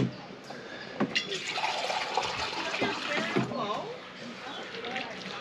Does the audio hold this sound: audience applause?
no